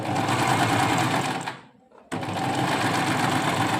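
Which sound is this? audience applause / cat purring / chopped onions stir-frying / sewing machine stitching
sewing machine stitching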